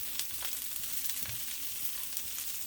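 Sausage and mushrooms sizzle in a nonstick omelet pan, a quiet steady frying crackle with scattered pops and a faint stir, no talking.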